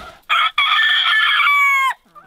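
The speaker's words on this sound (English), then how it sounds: "So that's why he was crowing. He just crows a lot." A rooster lets out a single loud, close crow, a strained drawn-out call lasting over a second and trailing off at the end.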